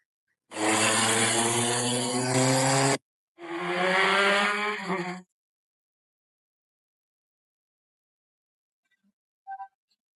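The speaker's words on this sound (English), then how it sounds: "So you'll be able to get the sound from motorbike, like while the ride is going on." A motorbike engine roars loudly for a few seconds, cuts out briefly, then revs again before falling silent, with a faint short beep near the end.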